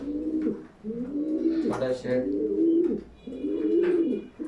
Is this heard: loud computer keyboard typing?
no